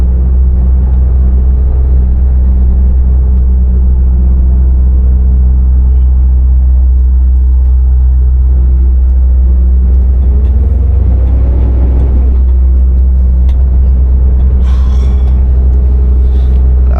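Scania V8 truck driving along narrow Shropshire country lanes, a steady loud low engine drone throughout with a brief rise in pitch near the end as it works harder.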